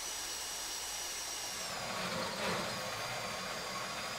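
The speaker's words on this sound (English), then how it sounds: "I'm kind of worried the drill might break" A drill bores through a bank vault door in the video game GTA 5, giving a steady, dense whirring grind that swells slightly midway and runs without pause.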